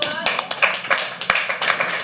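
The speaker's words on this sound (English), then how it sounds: "So with a round of applause, keep it going" Scattered clapping from an audience at a live poetry open mic, a thin patter of separate claps rather than a full ovation, with voices over it.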